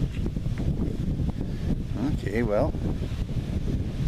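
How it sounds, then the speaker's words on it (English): Wind blowing outdoors on a warm day at a tiger and lion rescue center, a constant broadband rumble and buffeting across the mic throughout, with a person speaking briefly over it. "kind of windy."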